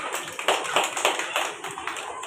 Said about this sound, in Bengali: তাহলে হাততালি দাও একবার।